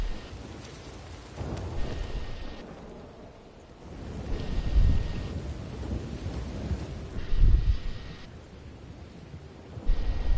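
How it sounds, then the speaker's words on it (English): Heavy rain pours steadily in Red Dead Redemption 2 while thunder rumbles in deep, rolling swells that peak twice, with wind beneath the downpour and no voices. "Raining hard."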